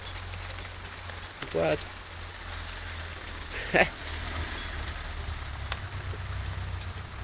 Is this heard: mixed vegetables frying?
no